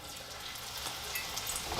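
Food dropped into very hot oil, a steady hissing sizzle that fills the whole moment without a break, close up.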